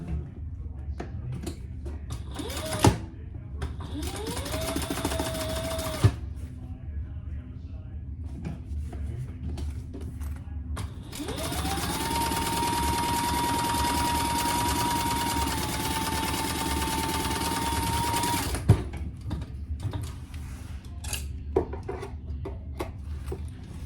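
Sewing machine stitching fabric for a Horizon Sling bag, heard as two runs of steady motor hum, a short one and then a longer, louder stretch of several seconds, with handling clicks between them.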